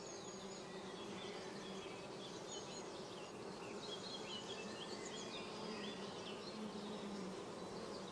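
Honey bees hum in a steady, soft drone during queen rearing, with many overlapping wingbeats forming a continuous buzz that stays even and fairly faint throughout.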